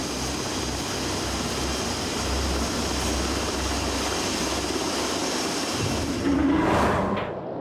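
A Navy jet bomber comes down onto the deck of the aircraft carrier USS Forrestal, making a loud, continuous roar of jet engines that swells briefly near the end before easing off.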